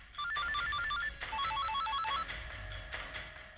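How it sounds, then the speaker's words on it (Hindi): An electronic telephone ringtone trills in rapid repeating bursts of high chirping notes, fairly quiet, with a low background hum and no talking. "मैं पलाश सर को फोन करके बताता हूँ।"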